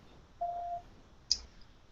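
A single steady phone tone, then a sharp short beep, both faint and alone in a quiet room while a call is placed.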